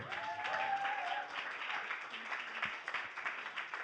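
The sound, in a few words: audience applause for a guest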